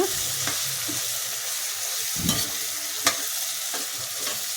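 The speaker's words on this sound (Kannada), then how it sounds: "ಈ ರೀತಿ ಬದನೆಕಾಯಿ ಎಲ್ಲ ಚೆನ್ನಾಗಿ ಫ್ರೈ ಆಗಿದೆ." Eggplant pieces sizzle steadily in an oil-filled pan while cooking for vangi bath, a soft continuous frying hiss with a few faint spatula scrapes and clicks against the pan.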